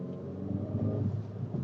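A Hyundai i30N engine pulls hard under acceleration, a steady, full low rumble with a layered growl that holds even and close throughout, with no voices.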